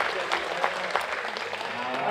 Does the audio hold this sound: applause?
yes